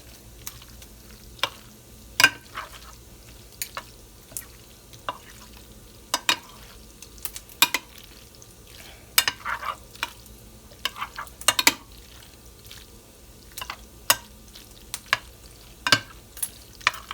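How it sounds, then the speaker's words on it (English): A spoon stirs a thick homemade macaroni and cheese mixture in a bowl, soft wet scrapes and clicks at irregular intervals, close and fairly quiet with no talk. "You want to mix this up."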